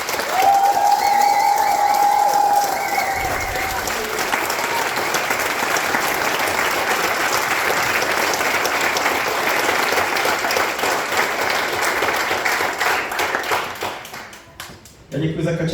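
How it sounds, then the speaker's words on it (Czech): Audience at a Christmas concert in Polkovice applauding, a dense sustained wash of clapping that fills the room, with a brief sung or played tone at the start and the clapping thinning out near the end. "Já děkuji za Kačenku za potlesk"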